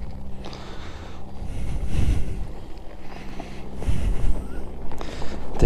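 A Lifan KPX250 motorcycle engine running on a ride, a low steady drone buried under heavy wind buffeting that swells and fades, with no talking.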